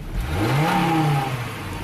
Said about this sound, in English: foot on the brake, snap it open, wide open throttle